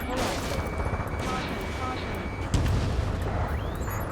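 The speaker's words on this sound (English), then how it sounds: "gunfire and the roar of jets echoing through the streets" Dense gunfire and explosions from the video game Ace Combat 7 rumble continuously, with a heavier boom partway through and voices talking over the battle.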